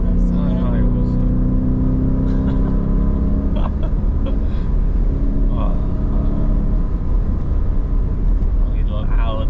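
A 2018 Lamborghini Urus accelerates hard, a loud continuous engine roar heard from inside the cabin as people talk over it throughout.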